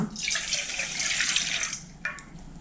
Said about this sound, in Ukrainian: До миски вливаю 300 мл молока.